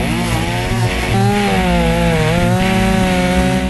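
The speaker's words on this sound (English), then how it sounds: "We're going to get to play with chainsaws." A chainsaw cuts wood for bowl turning, loud and close, its engine revving up and holding a steady high snarl through the cut, with no talking.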